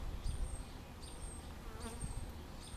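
Honeybees buzz around an open hive during a spring inspection, a dense continuous drone with individual bees zipping past close by in repeated passes, no talking.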